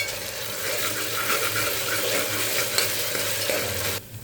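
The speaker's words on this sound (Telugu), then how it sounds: "ఇలా ఫ్రై అవుతున్నప్పుడు అల్లం వెల్లుల్లి పేస్ట్ మంచిగా ఫ్రై చేసుకోవాలి." Ginger garlic paste frying and being stirred in a pan, a steady close sizzle with scraping stir sounds, cutting off abruptly near the end.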